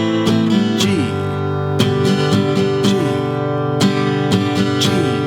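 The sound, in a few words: guitar playing chorus 3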